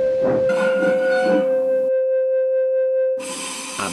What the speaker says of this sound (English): Just then, a train came in.